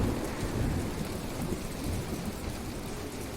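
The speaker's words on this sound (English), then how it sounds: "And it's raining and thundering." Steady rain with rolling thunder in the video game Planet Explorers, a continuous broadband wash of rainfall with low rumbling throughout, no voices.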